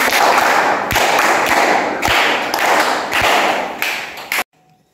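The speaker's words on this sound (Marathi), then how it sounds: "अभिनंदन करा सगळ्यांनी, टाळ्या वाजवून." Schoolchildren clap together in a classroom to congratulate a classmate, in a few loud, rhythmic bursts that stop abruptly.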